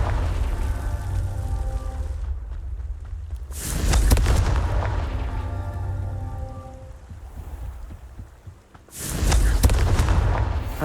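Two heavy Confringo blasting-spell explosions go off in the Hogwarts Legacy video game, deep booming bursts several seconds apart, each followed by a rumbling, crackling tail of falling debris.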